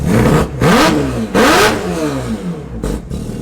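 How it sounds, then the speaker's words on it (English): The four-rotor engine of a Toyota Supra revs hard at close range in two strong, rising bursts. Each burst falls away as the throttle is released, and a shorter blip follows. "Watch me just rev it."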